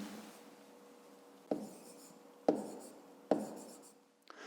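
Pen writing numbers by hand in a fifth-grade maths exercise, quiet and close: a soft continuous scratching broken by three sharper taps or strokes, spaced about a second apart.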